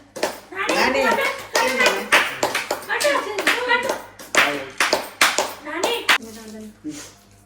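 A small group at a wedding anniversary celebration claps in uneven bursts, with voices, including a child's, talking and calling out over the applause.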